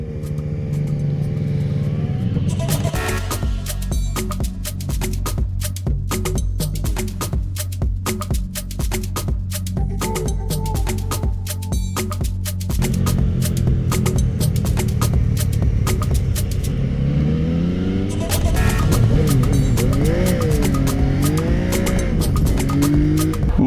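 A Yamaha Tracer 900 motorcycle's 847 cc engine roars continuously up close while riding, revving through gear changes with rising and falling pitch, loud and sustained throughout.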